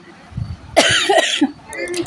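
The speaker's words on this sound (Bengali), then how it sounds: "কাশি হয়েছে একটু ঠান্ডা লেগে গেছে" A person with a cold gives a short, harsh cough close to the microphone, briefly framed by faint speech.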